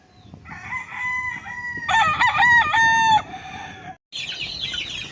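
Gamefowl roosters crow loudly nearby in a caged farm setting on a rainy day, several overlapping cock-a-doodle-doo calls with higher-pitched clucking and squawks at the end.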